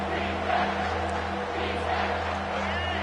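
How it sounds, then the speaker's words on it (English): A stadium crowd in the NCAA 25 football video game roars on a third-down defensive stand, a sustained swelling cheer that rises and falls under a commentator's voice. "Decibels rising as the crowd gets behind this defense on third down."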